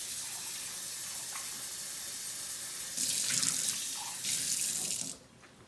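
Tap water runs steadily into a kitchen sink, then gushes louder in two bursts as a wet measuring cup is rinsed under the stream, before the flow cuts off.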